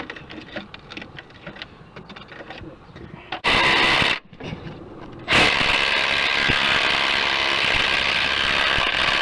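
A power tool removes a rear strut bolt on a car, loud bursts of whirring close by, one short burst followed by a longer sustained run, with talk and clatter beforehand.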